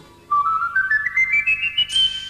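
A rising whistled tone glides upward in a series of short, bright notes, clear and close, ending with a brief burst of hissy noise.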